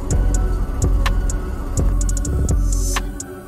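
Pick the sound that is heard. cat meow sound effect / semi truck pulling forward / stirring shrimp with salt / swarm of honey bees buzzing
semi truck pulling forward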